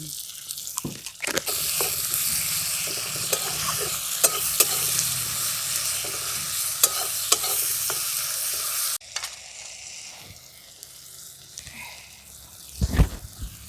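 Chopped onion and tomato, salted, sizzle and crackle steadily in a pan for a katla fish dish, with scraping stirs on top; the frying cuts out near the end, leaving a quieter room and a final thump.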